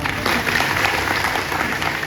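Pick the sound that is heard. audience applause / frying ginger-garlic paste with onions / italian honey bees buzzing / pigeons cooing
audience applause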